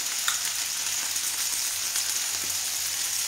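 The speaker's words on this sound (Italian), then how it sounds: "E andiamo a mettere in padella." Cherry tomatoes seasoned with oregano hit a hot frying pan, giving a steady, dense sizzle that holds evenly throughout, close and bright with no talk.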